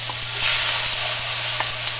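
Onions, green onions, peppers and parsley frying in hot olive oil in a pan, giving a steady close sizzle with faint stirring scrapes throughout and no talk.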